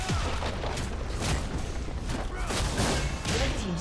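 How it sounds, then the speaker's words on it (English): League of Legends game audio with a turret being destroyed: a dense run of booming, crackling impacts with layered blasts, steady and loud throughout with no pauses. "Red team's turret has been destroyed."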